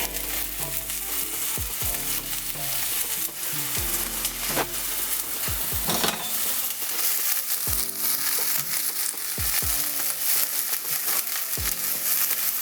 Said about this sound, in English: Saute that for a bit.